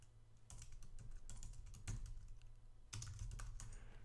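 A Linux command is typed on a computer keyboard, a quick run of close, crisp key clicks in two bursts separated by a short pause, faint and without talk.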